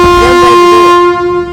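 A motorbike horn blares loud and close in one sustained, steady tone lasting over a second before it cuts off abruptly.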